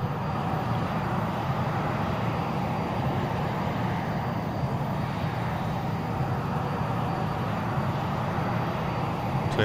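AV-8B Harrier jet engine in the X-Plane 11 flight simulator, flying an approach at Naval Air Station Patuxent River: a steady, loud broadband roar that holds constant throughout with no break.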